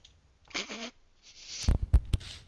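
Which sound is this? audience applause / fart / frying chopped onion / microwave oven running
fart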